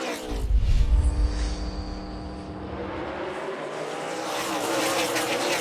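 NASCAR stock cars racing at Martinsville Speedway, with Chase Elliott on the inside and Martin Truex Jr. on the outside: a loud, close engine roar swells at the start, then a steady, dense drone of cars continues and builds slightly toward the end.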